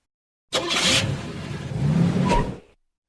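A Mustang's engine in a video game revs up hard from silence, a close, loud roar that rises, surges again and cuts off after about two seconds.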